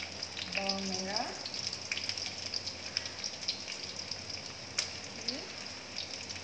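Shallots fry in hot oil with a continuous crackling sizzle that stays fairly loud throughout, while a voice speaks briefly near the start and again later.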